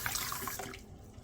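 Canning jar lids being rinsed under a running kitchen tap while dry canning potatoes at home, a steady close splash of water into a sink that cuts off near the end.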